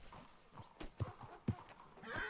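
A horse in RedM clops along in a few soft, distant hoofbeats with a short whinny at the end, quiet under the game's other sounds.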